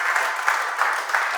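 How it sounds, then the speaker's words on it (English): Steady applause from an audience, a dense wash of clapping that continues evenly throughout. "Let's give them a round of applause."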